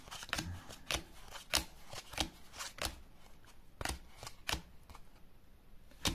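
Trading cards from a Gate Ruler set are riffled and sorted by hand at close range, giving a series of crisp, sharp flicks and snaps at irregular intervals, fairly quiet with no talking.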